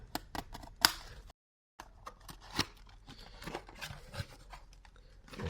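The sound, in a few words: opening a package of graded Yu-Gi-Oh cards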